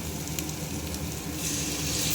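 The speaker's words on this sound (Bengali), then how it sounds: "দেখো পেঁয়াজ ভাজা হয়ে গেছে, এবার দিয়ে দেবো সমস্ত বাটা মশলা, আদা, জিরে, পেঁয়াজ, রসুন" Ground spice paste of ginger, cumin, onion and garlic sizzling with fried onions in a pan for a jackfruit and prawn dish, a steady close hiss that grows louder toward the end, no voices.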